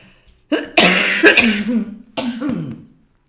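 A person coughs harshly at close range, a rough spasm followed by a second shorter coughing fit, with brief silence around them.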